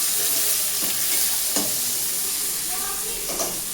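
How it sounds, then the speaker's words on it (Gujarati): Onions frying in hot oil, a loud steady sizzle with occasional stirring scrapes, close and continuous throughout. "કાંદા નાખી આ કાંદા પાકવા દેવાના."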